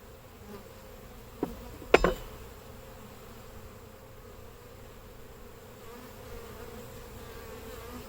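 Honey bees hum in a steady, close drone at a Saskatraz hive during a brood inspection, with a couple of sharp knocks from frames or tools near the start.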